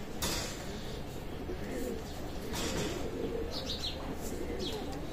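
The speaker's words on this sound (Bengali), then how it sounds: "শিয়ালকুটি কবুতর রানিং পেয়ার কবুতর" A running pair of Shiyalkuti pigeons coos steadily and close by, the low murmuring rolling on without a break and with no one talking.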